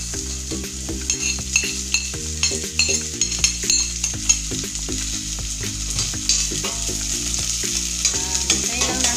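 Onions and ginger sauté in a pan with a steady sizzle and frequent stirring scrapes, set against continuous background music.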